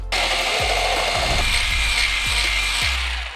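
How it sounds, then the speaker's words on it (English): An electric mixer whips egg whites for eggnog at high speed, giving a steady, loud whirring hiss with occasional low knocks as the beaters strike the bowl. There is no talking. "Increase the speed and beat it until it's about the consistency of shaving cream"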